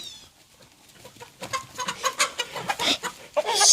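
A flock of backyard chickens clucks at dusk after a rainy day, a rising chorus of close, overlapping clucks and cackles that grows denser and louder over a few seconds.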